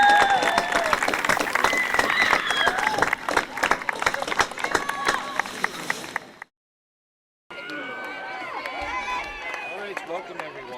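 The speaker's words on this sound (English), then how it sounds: "one more final applause for the" Crowd applause for the Shaler Area girls varsity soccer team on senior night against Allderdice, a dense stretch of clapping with cheering voices that cuts out briefly before quieter clapping and crowd noise resume.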